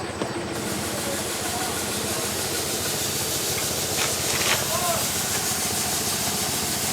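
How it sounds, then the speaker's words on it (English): An old steam crane with a restored engine and a replaced worm gear runs at an outdoor steam-up event, giving a continuous loud hiss of steam over a steady mechanical chug, with a couple of sharper steam bursts partway through. "this is the crane that Jonathan got the engine running"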